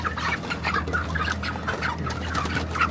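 Broiler chickens clucking while being weighed on a farm, repeated close, busy clucks and calls overlapping continuously over a low background hum.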